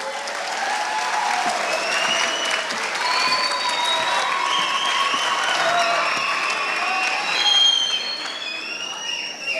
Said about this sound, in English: Let's give the MacArthur String Orchestra one last round of applause.